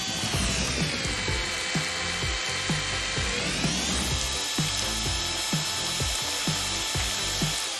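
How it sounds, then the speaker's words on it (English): Electric mixer beating cake batter in a home kitchen: a steady, close motor whine with the beaters knocking rhythmically against the bowl, running without pause and with no talking. "We can move on to the mixer!"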